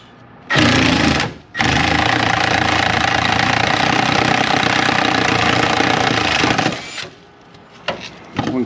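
A power tool spins a rusted body mount bolt on a 1974 Apollo build, making a loud, sustained buzzing whir that stops briefly, resumes for several seconds, then cuts off and leaves a few clanks.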